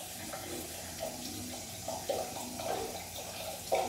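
Tap water runs steadily into a sink during handwashing and rinsing of fingers and wrists, with soft splashes and irregular spattering as hands move through the stream. The sound is quiet and close, with no talking.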